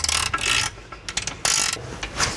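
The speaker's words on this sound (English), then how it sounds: "So one ratchet from this side, and then one to hold the bolt from this side." Ratchet tightening a lower control arm bolt on a 2012 Subaru Forester, heard as close, loud bursts of rapid clicking ratchet strokes with short pauses between them.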